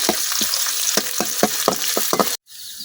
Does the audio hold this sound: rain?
no